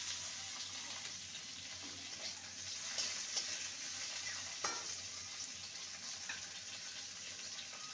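Tomato frying with ginger paste in a pan: a soft, steady sizzling hiss, quiet and close, with a few faint stirring scrapes and no talking.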